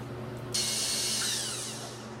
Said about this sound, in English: now he's going to change drill bits to a 5/16 inch drill bit so we can go in and ream that out